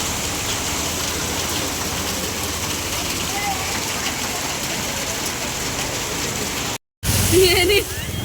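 Steady rain hisses throughout, dense and continuous, broken by a brief gap near the end before a few faint voices and sounds return.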